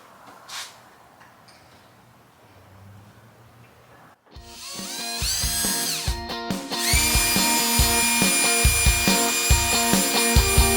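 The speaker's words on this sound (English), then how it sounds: "we may have to drill a couple extra holes" After a quiet stretch, a power drill whirs up loudly and keeps running steadily, close by, drilling holes for curtains inside an Airstream Caravel 20FB trailer, grinding through material with rising, sustained intensity.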